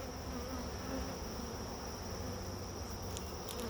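Dense, continuous buzzing of many honey bees at a hive with Saskatraz queens, a steady droning hum with a high whine on top, close and unbroken throughout.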